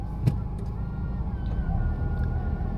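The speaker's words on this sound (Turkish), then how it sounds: "Bak arabanın sesini dinleyin. Çok değil. Az bir böyle bir titresin." A car engine idles with a low, steady rumble and slight vibration, heard from inside the car during a driving-test route in Konya, Turkey, a faint click near the start, no voices.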